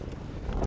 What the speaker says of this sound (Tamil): வெளியெல்லாம் கிளைமேட்டு அப்படி காற்று தான், பயங்கரமான காற்று.